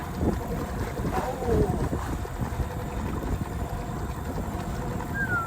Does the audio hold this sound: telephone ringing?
no